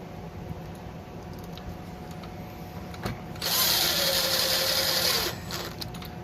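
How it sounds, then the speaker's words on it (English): A power drill driving screws into an RV door lock, a short, loud whirring burst of a couple of seconds after quiet handling clicks, close up. "Now we're simply just going to put the 4 screws back in."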